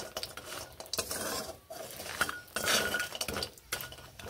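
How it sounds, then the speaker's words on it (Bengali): Bori lentil dumplings fry in a little oil in a wok, with a soft sizzle under repeated scraping and clinking of a metal spatula as they are stirred, close and moderately loud. "কড়াইতে আরও একটুখানি তেল দিয়ে আমি বড়িগুলোকে ভেজে নিচ্ছি"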